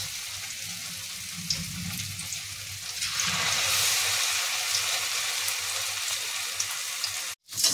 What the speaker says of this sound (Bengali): এইভাবে পনিরগুলো আমি ভেজে নিয়েছি